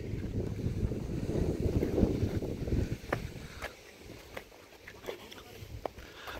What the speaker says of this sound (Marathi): म्हणजे वारं खूप सुटलं आहे.